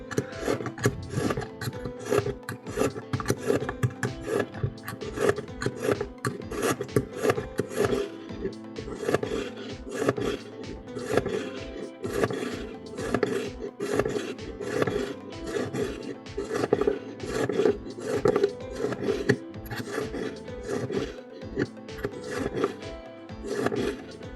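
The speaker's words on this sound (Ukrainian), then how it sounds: "Зараз спробую зробити вже якусь плюс-мінус фінічну цю заточку" A knife drawn over and over across a ceramic sharpener makes a fast run of close rasping strokes that repeat for a long stretch with no pauses.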